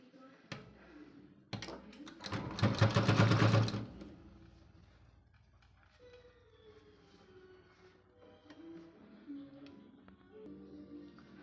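A sewing machine stitches tucks into a blouse in a short, loud burst of rapid mechanical whirring that lasts about two seconds, then gives way to quieter background sounds.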